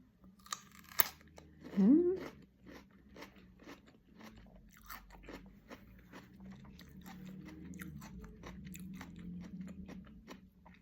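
Someone bites into a crunchy sour apple and chews it close up, with a short crisp crunch followed by a run of quiet, moist chewing crackles and faint rustling in an otherwise quiet room.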